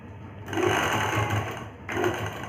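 A sewing machine stitching blouse cloth runs with a steady, close whirring hum, pausing briefly and then starting up again near the end.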